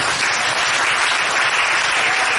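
A church congregation applauding, a dense wash of clapping from many hands that fills the room evenly from start to finish without any clear voices.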